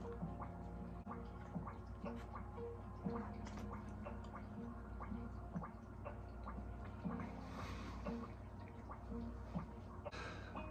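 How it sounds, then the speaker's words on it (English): Coffee is slurped through a Tim Tam chocolate biscuit used as a straw, giving close, quiet wet sucking and gurgling with small drips and squishes over about ten seconds, with faint background noise. "you can actually use it as like a little straw, so you can suck up a little bit of your coffee"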